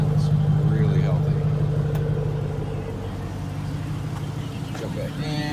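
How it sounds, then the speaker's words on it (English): A deep exhaust rumble from a 2012 Jeep Grand Cherokee SRT8 idles steadily nearby, swelling slightly at first, while someone talks over it. "Listen to that exhaust."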